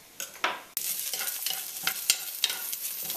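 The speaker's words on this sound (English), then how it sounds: "Just gonna move that around and let that sort of cook on low heat for about 3 minutes." Garlic, ginger and scallions cook over low heat in a pan, soft sizzling broken by several sharp scrapes and knocks of a utensil stirring them around, close and without speech.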